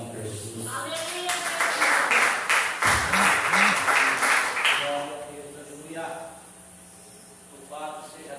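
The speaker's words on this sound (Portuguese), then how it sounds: "faz palmas para Jesus" A Portuguese-speaking church congregation at a worship service claps in a steady rhythmic burst for several seconds, mixed with voices, before fading into speech.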